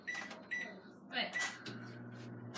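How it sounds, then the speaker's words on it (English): A microwave oven heats a chocolate mug cake, its beeps and door clunk followed by a steady low running hum, close by, with a person speaking over the start. "we need to put that into the microwave for 2 minutes and 30 seconds."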